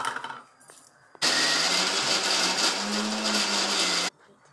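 Mixer grinder coarsely grinding tomatoes without water, a loud whirring roar that starts abruptly, runs steadily for about three seconds with a rising hum, then cuts off.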